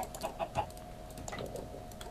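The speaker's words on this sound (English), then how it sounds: "Hello, chicken." Minecraft chicken clucking in short soft bursts, three quick clucks close together near the start, then faint scattered game sounds, no talk over it.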